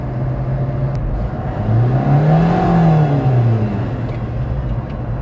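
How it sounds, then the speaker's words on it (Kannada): A car engine idling in second gear revs up, its steady hum swelling into a rising whine that peaks and then falls back, loud and close with no talk. "ಗಾಡಿ RPM ರೈಸ್ ಮಾಡ್ತೀವಿ."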